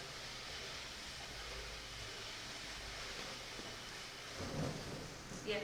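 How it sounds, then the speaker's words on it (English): Thunder rolls as a low, steady rumble under a broad hiss like falling rain, holding for several seconds before a couple of slightly louder swells near the end. "That's just thunder for the camera."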